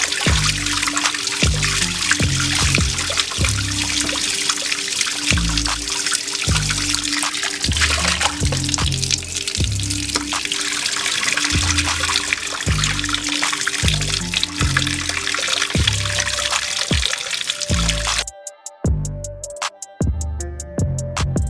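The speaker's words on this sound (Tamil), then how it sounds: "மட்டனை நல்லா வாஷ் பண்ணி க்ளீன் பண்ணிக்கலாம்." Running water splashes and trickles as mutton is rinsed under a tap for a traditional biryani, a steady close pour with irregular splatters, alone without talk.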